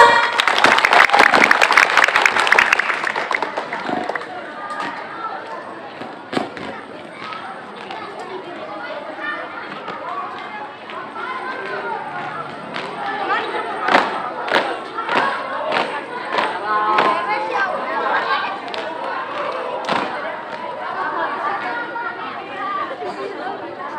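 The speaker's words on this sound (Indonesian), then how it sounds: "Tepuk tangannya mana?" Crowd at a school extracurricular display in Cirebon, Indonesia, applauding and cheering after a paskibra flag-troop performance, with a loud burst at the start settling into steady clapping and chatter, sharp thuds scattered through.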